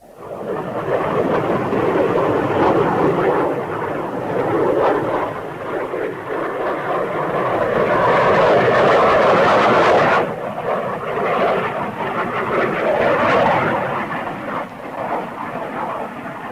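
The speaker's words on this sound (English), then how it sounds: "our jet fighter planes have already engaged the enemy" Jet fighter planes roar loud and continuous in the 1952 film Invasion U.S.A., the engine noise swelling, easing and surging again over about sixteen seconds without speech.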